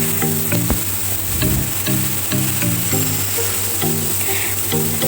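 A steady sizzle of spices frying in hot oil with browned onions for a potato and egg curry, with occasional stirring, while music plays softly behind it.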